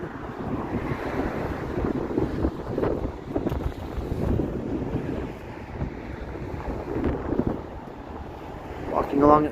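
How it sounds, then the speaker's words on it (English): Cold winter wind gusting while someone walks outdoors along a Toronto street at night, roaring and buffeting the microphone loudly and continuously, with bursts of low rumble and a brief voice near the end. "I'm walking in the stupid cold, the dumb wind."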